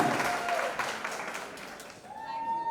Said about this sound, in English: a huge round of applause for Mahima Makwana and Aayush Sharma